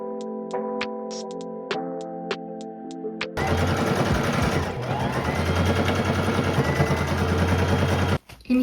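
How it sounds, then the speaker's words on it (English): A sewing machine running a straight stitch to attach bias tape to thrifted clothing, first a few isolated clicks and tones, then a sustained, dense mechanical whir of rapid stitching that carries on steadily before briefly stopping near the end. "do a straight stitch along this portion here"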